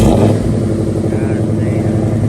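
An AP2 Honda S2000 with a Kraftwerks supercharger and its exhaust routed outside idles loud and close in a garage, a rough steady engine drone with people talking over it.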